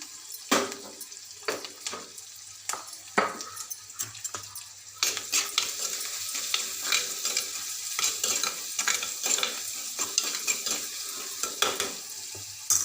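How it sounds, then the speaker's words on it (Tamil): Sliced onions with a little salt stirred and sizzling in a pan for a tomato curry, with a steady crackling fry and repeated scraping stirs of a spatula against the metal, close and alone without voices. "வெங்காயம் வணங்குறதுக்காண்டி கொஞ்சம் உப்பு ஆட் பண்ணிக்கலாம்."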